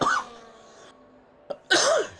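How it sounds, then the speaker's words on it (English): Two sharp, close coughs, one at the start and another near the end, separated by a quiet stretch with a faint breath between them, during F1 24 race commentary. "Sorry for the cough."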